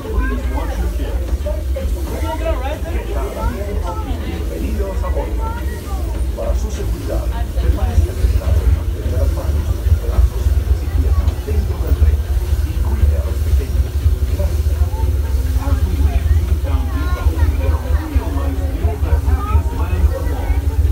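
The Disneyland Railroad train rumbles steadily along the tracks with a deep, continuous low drone and faint rattling, while a safety announcement plays over it.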